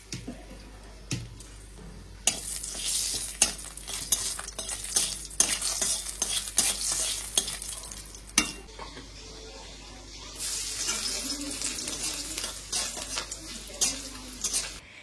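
Fish frying in a home kitchen pan, a crackling sizzle broken by frequent sharp clinks and scrapes of a spatula against the pan, close and fairly loud, with no talking.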